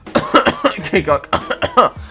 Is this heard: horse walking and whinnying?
no